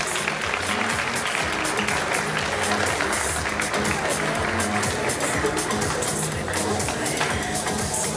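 Crowd applause for players at an official presentation of new team jerseys, steady dense clapping held at one loud level throughout, with faint voices mixed underneath.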